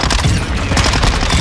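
Loud, dense gunfire in the Modern Warfare 2 video game, overlapping rapid shots and bursts with a booming low end, continuous for the whole moment without speech.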